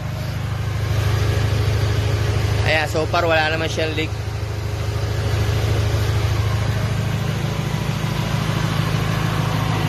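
A Honda VTEC car engine idles in a steady, low, even hum for the whole stretch, while someone speaks briefly over it partway through.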